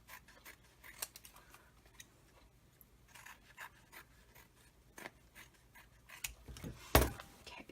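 Scissors snip through excess paper after pieces are taped together for a holiday journal page, quiet close snips scattered across the stretch with one sharper cut near the end.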